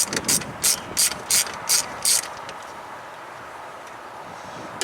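Six quick ratchet bursts from a 10 mm socket turning out bolts on a TBI Chevy fuel pump relay, clicking in a steady rhythm over about two seconds, close and crisp, then fading into quiet room tone.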